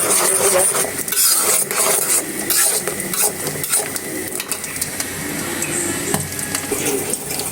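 Mango pieces fry in foaming mustard oil with a loud, close crackling sizzle, punctuated by scraping stirs and light clinks from the utensil in the pan.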